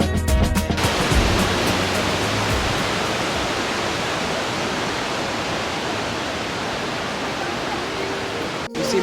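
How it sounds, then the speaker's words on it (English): Cummins Falls waterfall in Tennessee roars as a steady, loud broadband rush of falling water that fills the whole stretch close at hand, with a brief murmur of voices at the very start. "go get a closer look at the waterfall"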